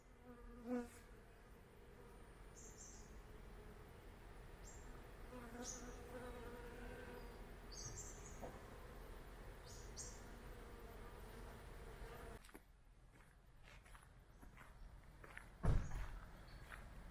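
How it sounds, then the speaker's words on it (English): Bees buzzing steadily as they feed at flowers at a tourist park in the Porongurup Range, a soft continuous hum with occasional louder passes close by. A few faint bumps and footsteps sit under it, and no one talks. "All the bees coming in for a feed."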